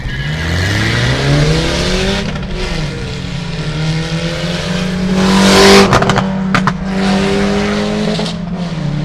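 Straight-piped BMW revving hard, a loud, raspy, continuous roar with rising and falling pitch sweeps and sharp throttle blips near the end.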